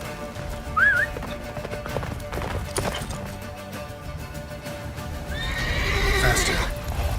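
A horse in The Witcher 3 video game gallops through a blizzard, with rhythmic hoofbeats under game ambience and a clear neigh near the end, while a voice speaks briefly.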